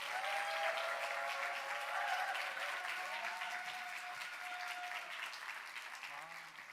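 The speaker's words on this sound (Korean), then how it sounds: "큰 함성과 박수로 모시도록 하겠습니다." Congregation at a church youth prayer service applauds and cheers as a pastor comes forward, a dense steady wash of clapping that fades slightly toward the end, with a voice audible over it.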